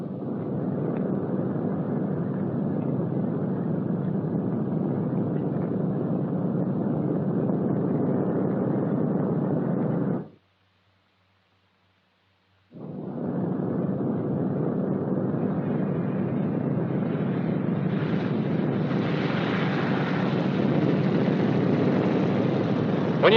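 A 1944 B-29 bomber landing, tail low at about 95 to 100 mph: a steady, loud engine roar and rush that cuts out abruptly for a couple of seconds, then resumes, brightening toward the end.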